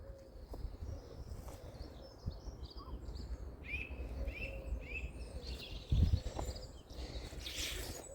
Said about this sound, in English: I don't know if you guys can hear all the birds chirping away and that, but it's really lovely.